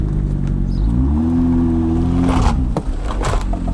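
A BMW M2 engine revs up and settles, a loud, close, throaty drone rising in pitch and holding before dropping back, with a few clicks and rustles near the end.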